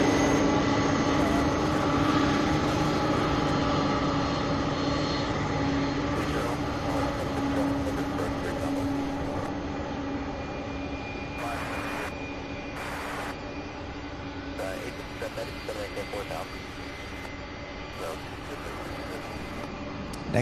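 An airplane landing at SDF airport and braking hard on the runway gives a steady, distant engine roar with a low hum, holding fairly even and easing slightly as it slows.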